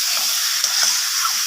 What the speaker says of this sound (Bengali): আলুটাকে সব কিছু মশলার সাথে এইভাবে একটু সময় নিয়ে কষিয়ে নিতে হবে।